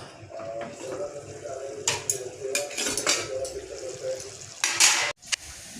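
Fish curry made with fresh Bombay duck being stirred in a pan, then covered with a lid over low heat: a run of metallic scrapes and clinks, with a louder clatter near the end as the lid goes on.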